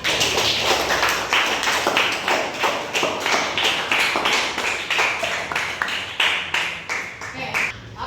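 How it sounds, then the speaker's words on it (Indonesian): Classroom applause for a student group after their presentation, many hands clapping in a steady, fairly close round that lasts several seconds, with no talk over it. "beri aplaus untuk kelompok 4"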